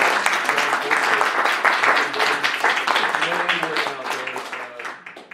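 Audience applause after a human trafficking panel at the Utah State Capitol, steady dense clapping from a room of people that fills the clip and slowly thins toward the end.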